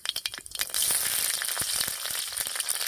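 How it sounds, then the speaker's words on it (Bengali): Whole cumin seeds, a bay leaf and a few slit green chillies drop into hot oil, with scattered crackles and pops that give way to a loud, steady sizzle, close by with no talking. "তেল গরম হয়ে গেছে, এবার তেলের মধ্যে দিয়ে দিচ্ছি হাফ চামচ গোটা জিরা, একটা তেজপাতা, আর দিয়ে দিচ্ছি কয়েকটা চেরা কাঁচা লঙ্কা।"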